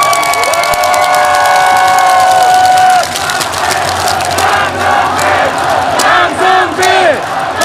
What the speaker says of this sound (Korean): 방송 인터뷰를 하려는 황성빈 선수에게도 응원의 박수 부탁드리겠습니다